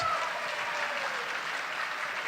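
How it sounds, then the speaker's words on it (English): Audience at a Republican governor candidates' event gives a steady, even wash of applause, moderately loud and slightly distant, with no single claps standing out. "if we could just give a round of applause for these candidates who've stood up here tonight for 2 hours"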